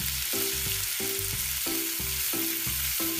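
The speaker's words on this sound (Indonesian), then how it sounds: "Goreng onde-onde sampai matang, sampai kulit onde-onde menjadi teksturnya keras" Onde-onde sesame balls deep-frying in hot oil, giving a steady close sizzle and bubbling with faint stirring, no voices.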